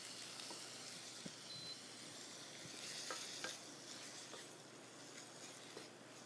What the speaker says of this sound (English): I'm going to put a little bit of white wine in here for some flavor.